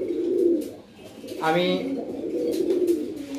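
Fancy pigeons in a loft give low, rolling coos that continue through the clip, with a rising call near the middle and a person speaking briefly nearby.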